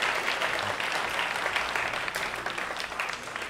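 Audience applause at an award ceremony, a steady wash of many hands clapping that fills the whole stretch without a break.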